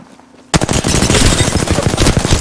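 Rapid automatic gunfire in Apex Legends, a loud sustained burst of closely spaced shots that bursts in abruptly after a quiet half-second and keeps hammering to the end.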